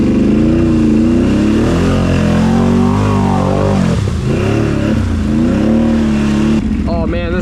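A Can-Am Outlander 850 XMR ATV engine revs loudly and up close, its pitch rising and falling in repeated bursts of throttle, with a sharper rev near the end.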